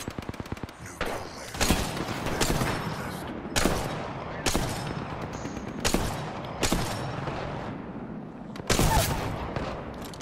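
Gunfire in Apex Legends: a string of sharp, loud shots spaced about a second apart, each with a long ringing tail, over a steady bed of rapid mechanical clatter and game noise.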